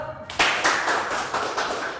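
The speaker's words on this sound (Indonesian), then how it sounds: "Tepuk tangan semua dulu" A class of schoolchildren claps hands together for a couple of seconds, a quick burst of close, moderately loud claps starting after a brief pause, with some voices mixed in.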